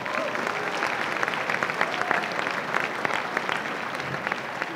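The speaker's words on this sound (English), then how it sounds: "So let's give them a round of applause." Steady applause from a school assembly crowd at a prom court event fills the hall continuously, moderately loud and even throughout.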